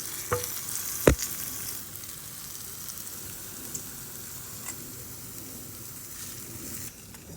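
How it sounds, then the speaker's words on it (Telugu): Tempering of spices sizzles steadily in hot oil for a green apple pickle, a soft continuous frying hiss with a couple of sharp clinks near the start. "పోపు చక్కగా వేగిపోయింది మనము ఇప్పుడు పచ్చళ్ళలోకి వేసేసుకుందాం"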